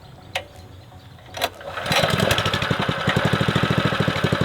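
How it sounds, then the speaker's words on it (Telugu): An electric water pump motor kicks in after a couple of brief clicks and then runs loudly with a steady, fast pulsing hum, feeding water through PVC pipes for a rain dance setup. "మోటార్ అయితే గాయ స్టార్ట్ చేసేస్తున్నా"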